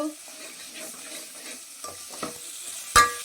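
Tempering spices such as mustard seeds, cumin and split gram crackling in hot oil with onions, a close steady sizzle with scattered pops and a sharp spoon clink on the pan near the end.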